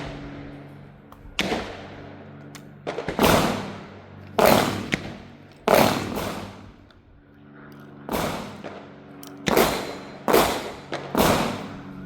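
A .410 tactical revolver shotgun fires outdoors, about eight sharp, loud booms spaced irregularly a second or two apart, each with a short decaying tail and no talk.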